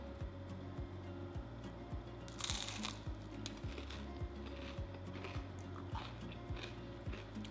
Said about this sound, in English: That crunch is so good.